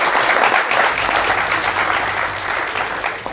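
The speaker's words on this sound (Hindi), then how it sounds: "ताली बजाओ।" Steady, dense clapping from a large live audience at a talk show taping on India–Pakistan conflict, filling the whole stretch at even loudness without a break.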